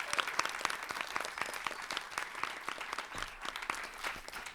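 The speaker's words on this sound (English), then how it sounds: "Let's applaud for that." Audience applause at a coding fellowship demo day, a dense, steady patter of many hands clapping at close range, running unbroken throughout.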